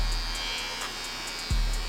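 An Andis GTX slimline hair trimmer runs with a steady, close electric buzz that stays constant across the clip, then a sudden low thump near the end.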